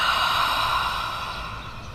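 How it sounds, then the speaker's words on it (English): Slow, steady open-mouthed ujjayi exhale during a beginner yoga breathing exercise, a soft breathy hiss fading gradually over two seconds, heard alone without talk. "And exhale, fog the mirror."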